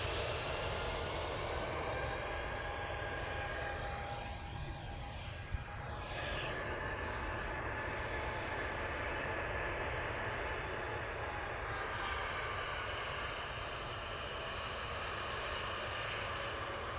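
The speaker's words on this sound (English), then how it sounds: "Aer Lingus A320 coming out in the taxi." Aer Lingus Airbus A320 taxiing at Manchester Airport: a steady, continuous jet engine roar holds at a constant level throughout, with broad rumble and a faint high whine, no talk.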